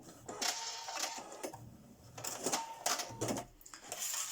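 A sewing machine stitches a seam on a denim bag made from old jeans, running in short rapid bursts with brief pauses between them, fairly close.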